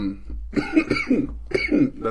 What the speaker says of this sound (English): not a Corona cough